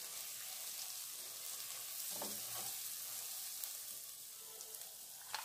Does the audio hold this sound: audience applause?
no